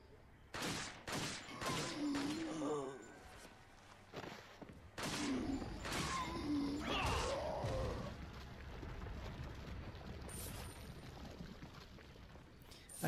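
A cannon in the Resident Evil 4 video game fires repeatedly at a gate, a series of loud booming blasts in quick succession with rumbling debris and lingering echoes between shots.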